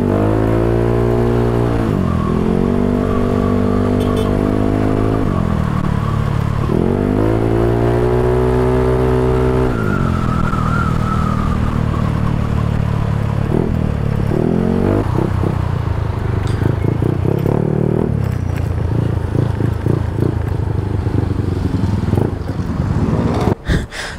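A stock Yamaha Mio Sporty scooter with 160cc displacement and an RCR silencer revs up and down repeatedly, loud and close, its pitch sweeping in rising and falling surges before settling into a rougher, uneven idle.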